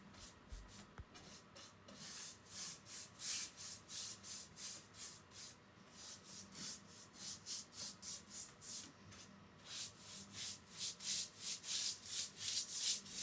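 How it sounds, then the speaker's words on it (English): Rhythmic strokes of a sanding sponge against the wooden edges of a 1970s drum table, quick back-and-forth scrapes repeating steadily, close and fairly quiet, with no talking. "I took my sanding sponge and lightly sanded around the edges"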